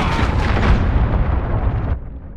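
A cruise missile strike explodes in Call of Duty: Modern Warfare multiplayer, a loud, close, rumbling blast that roars for about two seconds before cutting off sharply into a softer tail.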